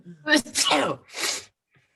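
A single loud sneeze with a sharp intake and burst, followed by a short breathy second burst, close to the listener, then quiet.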